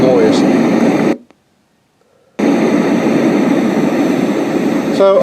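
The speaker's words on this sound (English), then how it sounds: "And this is just a regular white noise." A white noise machine's steady broadband hiss fills the clip, cut by about a second of silence in the middle before the even noise resumes.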